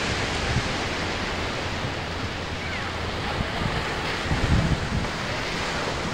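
Strong wind by the sea, with waves growing, roars across the microphone in a continuous, broadband buffeting rush, with occasional louder gusts.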